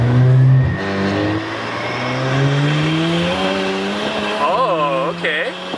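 A raspy BMW 335 turbo engine revs and drones loudly, pitch climbing and falling with gear changes, tires squealing briefly near the end.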